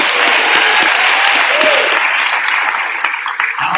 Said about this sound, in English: Please give them a round of